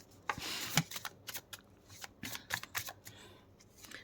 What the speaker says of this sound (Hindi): तो चलिए कार्ड्स को हम करते हैं शफल।